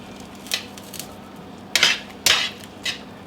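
Garlic shrimp with lemon juice stirred in a pan, a handful of sharp clinking scrapes of a utensil against metal, irregular and close, over a faint background hum.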